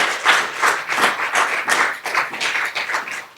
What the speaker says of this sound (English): Let's give Brendon another round of applause, please.